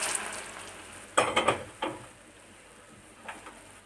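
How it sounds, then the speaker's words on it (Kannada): Okra sambar (bendekai saaru) boils in a pot on the stove, a low steady hiss broken by a brief cluster of sharp crackling bursts near the start and one fainter burst near the end, with no talk. "ಇವಾಗ ಪಕ್ಕದಲ್ಲಿ ನಮ್ಮ ಬೆಂಡೆಕಾಯಿ ಸಾರು ಕುದೀತಾ ಇದೆಯಲ್ಲ"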